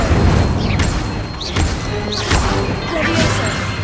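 Fire spell bursts from a wand in the game Hogwarts Legacy, a few loud whooshing blasts and impacts over game music and battle noise.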